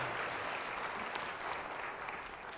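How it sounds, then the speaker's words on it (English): Church congregation clapping after communion, a steady dense wash of applause filling the room without pause, loud and sustained throughout. "we can clap for that."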